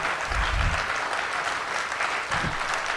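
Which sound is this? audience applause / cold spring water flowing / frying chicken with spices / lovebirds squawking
audience applause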